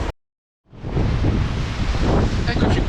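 Strong wind roars across a mountain trail in Sardinia, a loud steady buffeting rush that blasts the microphone after a brief silent gap at the start, with no voices.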